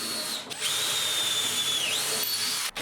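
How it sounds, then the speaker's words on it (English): A power drill whirs steadily while boring pilot holes in wood, its motor pitch dipping briefly under load before cutting off near the end; close, loud and without speech. "I pre-drilled a few pilot holes and countersunk the screws"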